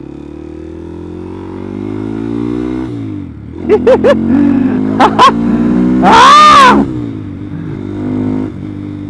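A Honda Grom motorcycle fitted with a 181 kit engine accelerating hard, its steady drone rising through a few quick gear-change bursts into a loud, climbing high-revving whine, with a brief exclamation from the rider.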